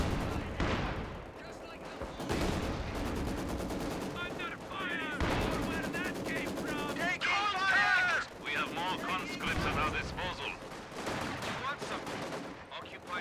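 Bursts of machine-gun and rifle fire crackle amid explosions in a World War II battle in Company of Heroes 2, with soldiers' voices shouting over the din and a whistling shell passing midway.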